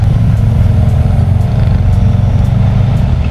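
A Yamaha Sniper 155 motorcycle engine idles loudly up close, a steady low throbbing drone with a buzzing rattle from the vibrating fairing.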